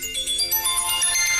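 Standard mobile phone ringtone plays steadily and fairly loud, a bright repeating electronic melody with no voices over it.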